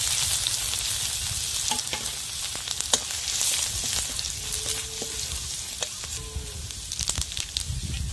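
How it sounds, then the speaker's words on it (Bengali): Cut dried red chillies and garlic fry in hot oil, a constant close sizzle and crackle with scattered sharp pops and faint scraping throughout. "তেলে শুকনো লঙ্কা কেটে দেবো"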